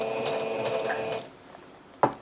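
A sewing machine stitches through a paper bag with a fast mechanical whir and rattle for just over a second, then stops, followed by a sharp knock.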